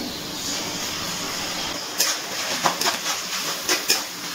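Ginger, garlic and green chilli paste frying with onions in a pan for a Bengali chicken and potato curry, a steady close hiss of oil broken by a few brief scraping stirs.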